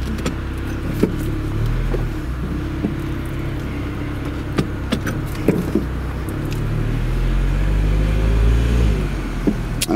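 A 2013 MINI Cooper Convertible drives and slows while pulling over, its engine a low hum under road noise and faint interior clicks, heard from inside the cabin.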